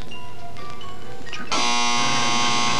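After a second and a half of busy background noise at a high school match, a loud, harsh electronic game-ending buzzer blares and holds steadily to the end.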